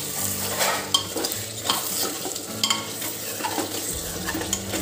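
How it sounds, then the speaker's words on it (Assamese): Rice, corn and chicken being stirred and fried in a pan, with a steady sizzle under repeated scraping strokes of a spoon against the pan, close and moderately loud, no talk. "আকৌ ভাত লৰাই দিছোঁ"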